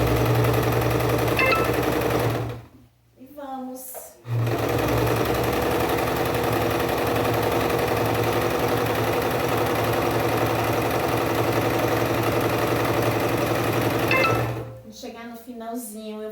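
A sewing machine runs steadily stitching a straight seam, its fast mechanical hum continuing with two short pauses, close and clear; a quiet voice speaks during the breaks.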